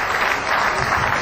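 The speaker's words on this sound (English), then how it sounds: "Big round of applause, the team of Dr. Bansal and Elizabeth Deva" Dense, continuous applause from an audience at a business school alumni reunion evening, a brief close burst of many hands clapping with no talk.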